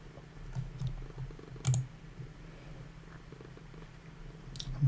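Soft, continuous low purring from a cat close by, steady throughout under faint room hiss, with a few light clicks and taps like keyboard typing scattered across it.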